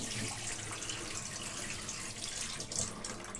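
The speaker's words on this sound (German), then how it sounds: "So, jetzt machen wir die Kanne mal leer." Filtered water from a reverse-osmosis drinking-water system pours steadily out of a jug into a sink, a continuous close splashing rush with no talk.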